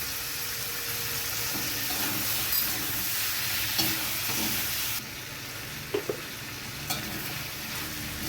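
Vegetables frying in a pan with salt and turmeric for a tomato and prawn curry, a steady, close sizzle with occasional stirring scrapes and light clinks; the hiss drops slightly partway through.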